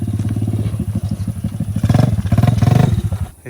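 A Honda ATC 90 three-wheeler engine runs close by, a rough, rapid putter that rises in revs and pitch midway before dropping off.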